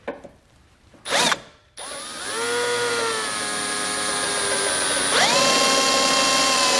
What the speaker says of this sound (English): use our hitch as a template and drill out all the holes on each side.